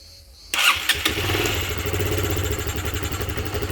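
A Honda PS150i scooter engine, running without its air filter, starts abruptly after a brief click and settles into a loud, close, uneven idle with a pulsing, lumpy rhythm.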